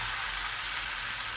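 Batter for patishapta pitha sizzles steadily on a hot pan, a close, continuous hiss with no talking over it.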